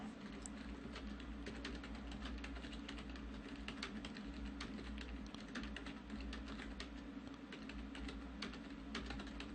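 Steady, rapid typing on a computer keyboard fills the whole stretch, dense continuous key clatter at an even moderate level, close and uninterrupted, with no voices.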